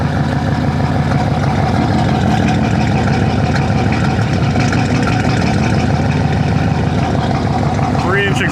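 A turbocharged TBI 5.7 (350) truck engine runs at a steady, loud idle just after starting, its rough low rumble continuous and close, with a brief higher sweep near the end.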